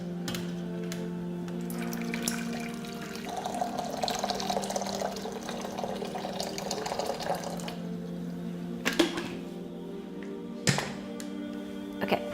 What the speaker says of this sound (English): So I've got my hot boiling water, which I'll add to the pot.